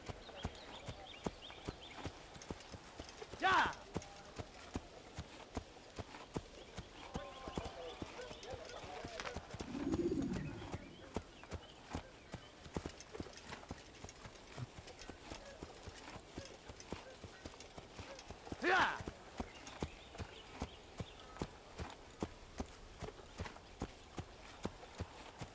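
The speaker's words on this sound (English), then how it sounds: "Maybe my horse is a gelding." Horse hooves clip-clop steadily through the whole stretch in the Assassin's Creed video game, a rapid rhythmic gallop close by, with brief louder bursts and a low thump mixed in and no talk over it.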